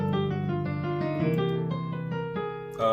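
A 5-1-4 run played on piano, a short sequence of sustained chords and notes that rings clearly for about three seconds and ends with a new attack.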